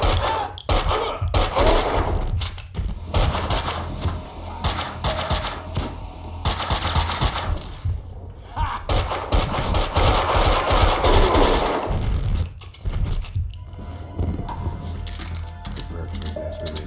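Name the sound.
gunfire in the video game Max Payne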